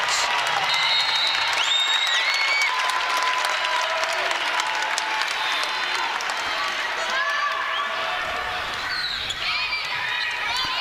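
Crowd at a women's college volleyball match between UNI and UIC cheers and applauds loudly and steadily, with whistles and shouts rising over the din throughout.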